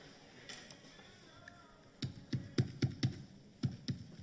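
Computer keyboard keys pressed at an artificial intelligence panel session, a few faint taps followed by a louder run of about eight uneven key strikes, with no talking.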